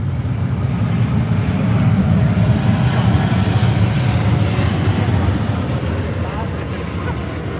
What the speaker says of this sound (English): for an aircraft of such size and weight, was a very short landing roll indeed